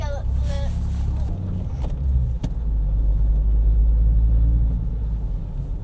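A Volvo car driving on the road after a DIY suspension repair, its engine and road rumble steady and loud throughout, with people talking over it inside the cabin.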